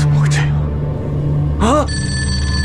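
A telephone rings in a dramatic scene, a short bright electronic ring cutting in loudly over a low hum after a brief vocal sound, close and clear.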